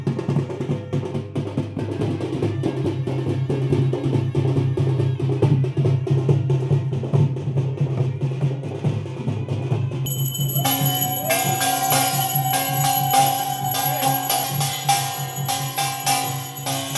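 A conch shell sounds during the evening aarti for Maa Samaleswari in Loisingha, Odisha, a loud sustained blare that begins partway through and holds to the end over ringing bells and a droning temple crowd hum.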